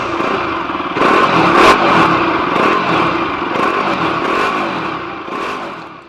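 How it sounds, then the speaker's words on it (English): A Bajaj Pulsar motorcycle's exhaust rumbles loud and close, its engine note rising with a couple of revs and then settling back toward idle, with no one talking. "Now let's take a look at the exhaust note."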